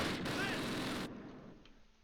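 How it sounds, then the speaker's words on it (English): Artillery cannons firing in the Close Combat Panthers in the Fog war game, a loud sustained roll of gunfire and blasts lasting about a second before dropping to a faint rumbling tail. "Cannons firing."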